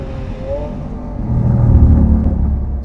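A Lamborghini supercar engine on a racetrack, its roar swelling louder midway through as it revs, heard from inside the car with low rumbling undertones.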